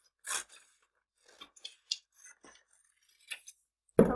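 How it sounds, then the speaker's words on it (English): Scissors cut a sheet of lined paper in half: a few faint, scattered snips and paper rustles in a quiet room, then a louder, sharper crunch of the blades at the very end. "you can take the lined paper and start by cutting it in half if you would like"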